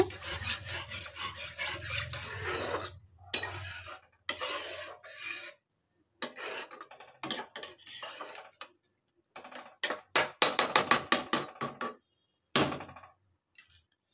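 Food being stirred and mixed in a pan with pasta-pizza sauce and chicken over raised heat, giving repeated scraping, rasping strokes in short bursts with brief pauses, close and moderately loud.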